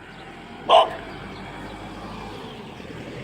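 One short, sharp dog bark sounds at a middle distance outdoors in a rural Thai district, then quiet background hiss follows.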